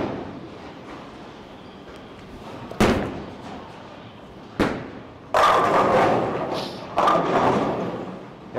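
A TNT bowling ball is thrown down a bowling lane and hits the pins: several heavy thuds, then louder, longer crashing impacts over a steady background, with no talking.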